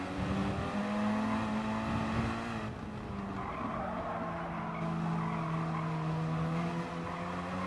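Car spinning out in Gran Turismo Sport, a Gr.3 race at Catalunya on worn tires: a loud, sustained tire squeal and skid lasts the whole stretch, with the engine droning steadily underneath.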